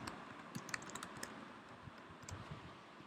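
Faint typing on a computer keyboard while entering text into a Microsoft Excel spreadsheet, scattered soft key clicks in a loose, uneven rhythm over a quiet room hum, with no talking.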